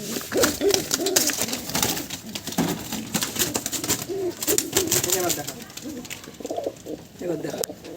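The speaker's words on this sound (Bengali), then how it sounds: "এই যে দেখুন সবুজ পায়রা ট্যাগ লাগানো আছে" Several pigeons coo in a loft, their low repeated calls carrying along under a voice that talks over much of the sound.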